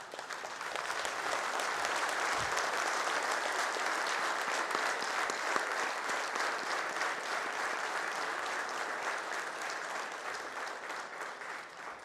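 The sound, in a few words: audience applause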